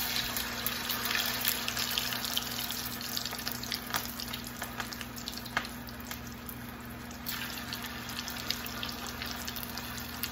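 Homemade French fries sizzle in hot oil, a faint, steady hiss with scattered small pops and crackles and a low hum running underneath, heard close with no talk.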